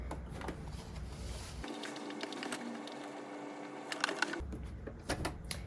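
A sewing machine runs steadily for a few seconds, edge stitching and top stitching a jacket at a 4 mm stitch length, with a rapid mechanical hum between softer handling noises before and after.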